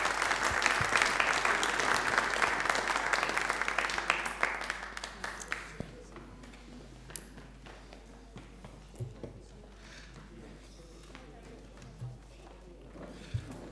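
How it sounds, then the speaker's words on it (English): Salvation Army congregation at a Sunday worship service gives a round of applause, loud clapping that fades out after about five seconds, followed by quieter room sounds and scattered taps. "Let's give them a round of applause."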